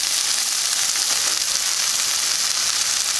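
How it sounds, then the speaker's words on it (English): Chopped vegetables and a tablespoon and a half of flour sizzle steadily in a hot pan while sauteing for a beef shank dish, a continuous close, even frying hiss with no talking. "Alright, so now the vegetables have been sauteing."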